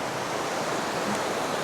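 The huge Allerheiligen waterfall roars as a dense, steady rush of falling water, close and loud with no pauses and no voices.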